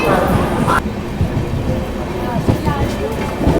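Jalpaiguri Road - Sealdah Humsafar Express departing Kishanganj station in Bihar: a steady rumbling rail roar with rolling wheel noise and occasional clanks, heard from aboard the train, with a sharp shift in tone early on.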